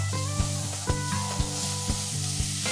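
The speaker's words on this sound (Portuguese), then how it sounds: "Colocar um pouquinho de azeite, que eu coloquei a cebola, o alho agora" Onion and garlic fry in olive oil for a cuscuz paulista, a steady close sizzle that runs throughout, with soft knocks from stirring every half second or so.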